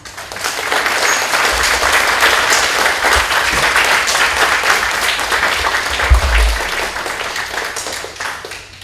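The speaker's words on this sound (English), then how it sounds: "Please give him another round of applause." Audience at the closing plenary of a conference gives a speaker a loud, sustained round of applause, steady dense clapping throughout with no talk over it.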